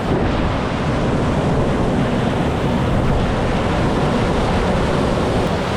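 A Genesis 24 hybrid electric wakesurf boat runs over water with a constant broad rush of hull noise, splashing and wind, loud and unbroken, with no distinct engine rumble.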